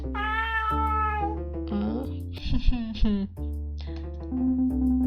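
A cat in the video game Melinium meows in a series of drawn-out, tonal cries, some rising and some falling, with a short noisy burst in the middle, close and clear over a low background hum.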